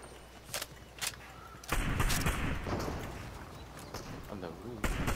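Sniper gunfire in a video game, several sharp distant cracks spread across a few seconds with a heavier burst of noise in the middle, while players talk throughout.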